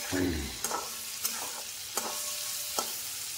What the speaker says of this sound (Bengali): এখন আমি সাবুটা দেবো।